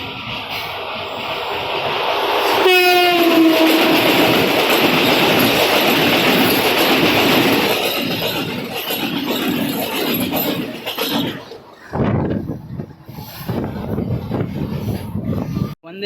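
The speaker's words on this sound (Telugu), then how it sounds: "వందే భారత్ కమింగ్" A Vande Bharat express train rushes past at close range, with a loud, sustained roar, a brief high squeal early on and rattling wheels that fade toward the end.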